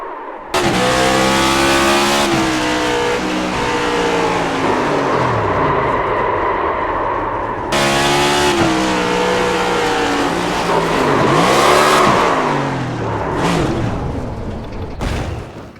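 Race car in iRacing at Sonoma Raceway, its engine loud and close, revving hard through the gears with repeated rises and drops in pitch as the car slides and spins, a brief cut mid-way.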